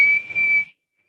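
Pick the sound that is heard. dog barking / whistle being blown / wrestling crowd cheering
whistle being blown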